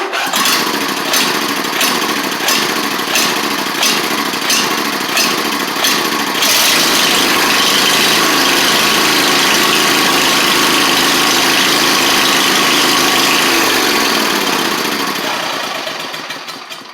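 A Briggs and Stratton V-twin engine cranks over on a new starter with rapid rhythmic chugging, then fires and runs loud and steady close by before winding down at the end.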